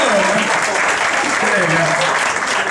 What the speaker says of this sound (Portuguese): Eu aplaudi, gente.